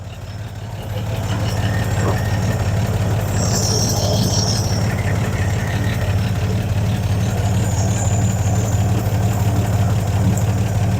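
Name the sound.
1952 Chevy old six-cylinder engine idling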